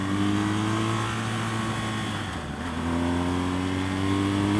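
A BMW R1200GS Adventure motorcycle on the move through the Santa Cruz Mountains, giving a loud, continuous engine drone with wind noise. Its pitch dips briefly midway, then climbs again under acceleration, with no talking.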